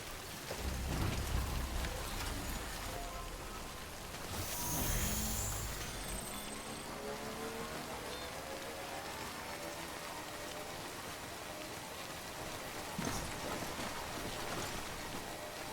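Steady rain pours down in the video game Death Stranding, a constant dense hiss of drops on surfaces with a couple of brief louder swells, and no voices.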